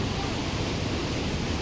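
Steady broadband rushing of the Makalia Waterfall in Lake Nakuru National Park, Kenya, continuous and fairly loud with no breaks.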